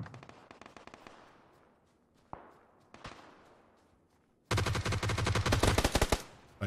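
Video game gunfire arrives first as rapid shots that fade into echoing tails, then a few single cracks, then a loud sustained burst of automatic fire near the end.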